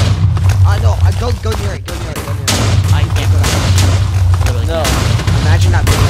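Minecraft TNT explosions go off as rapid booming blasts through laggy multiplayer gameplay, loud and continuous across the clip while players shout and talk over them.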